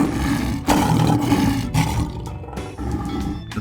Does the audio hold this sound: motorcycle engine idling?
no